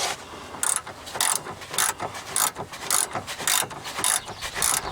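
Ratchet wrench loosening a steering rack bolt under a Chevy HHR, clicking in quick repeated bursts of several pawl clicks each, about eight bursts, close and fairly loud with no talk.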